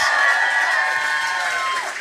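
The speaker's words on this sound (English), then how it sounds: "Give yourselves a round of applause for making it out." Audience at a live podcast show in New York City cheering and applauding, a loud, dense wash of clapping with whoops and shouts that holds steady and eases slightly at the end.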